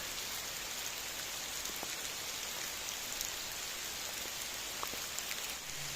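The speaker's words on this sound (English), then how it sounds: "Okay, so you can hear the rain in the background." Steady rain patters through forest foliage at a wild campsite, a dense even hiss with scattered close drips, continuous for the whole stretch with no voices.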